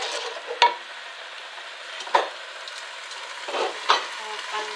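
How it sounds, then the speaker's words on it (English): Rice sizzles and fries in sauce in a pan on a stove turned up high, a soft continuous crackle broken by a few sharp scrapes of stirring, close and fairly quiet, with no one speaking. "turn up the stove a bit high, and I'm just going to leave it for about 2 to 3 minutes just for the rice to fry up a bit in the sauce."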